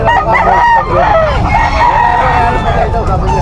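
A stag gamecock crows with a strained, rising call right near the microphone at a rooster sale, joined by other fowl sounds and background murmuring from people.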